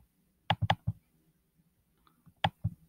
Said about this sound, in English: if I click on the speech bubble